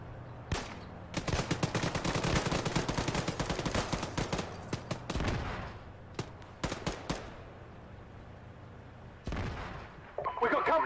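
Gunfire in Arma 3 with a Call of Duty 4 Modern Warfare mod: dense bursts of automatic rifle fire and sharp single shots, loud and close, in clustered volleys with brief pauses, ending in a few scattered cracks.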